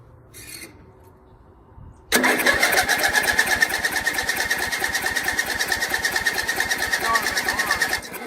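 An Ariens YT12 riding mower engine cranks and catches after a short quiet pause, then runs loud and close with a fast, steady chugging idle, a voice briefly heard at the start.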